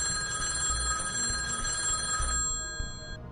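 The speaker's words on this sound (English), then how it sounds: "That's when the phone rang." A telephone at a diner rings in the middle of the night, a continuous shrill bell trill that holds steady, then cuts off and fades to near silence.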